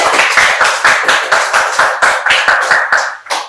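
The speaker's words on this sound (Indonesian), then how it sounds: "Bagus, tepuk tangan semuanya." A class applauds together in a steady, rhythmic clap, around a dozen sharp, even beats per three seconds that ease off and break into a few last claps near the end. No one speaks.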